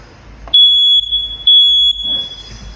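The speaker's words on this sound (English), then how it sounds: "installed smoke detectors. Let's see if they're working." A newly installed smoke detector is tested, sounding two loud, piercing electronic beeps of about half a second each, close and shrill, separated by a brief gap, with quiet room noise between.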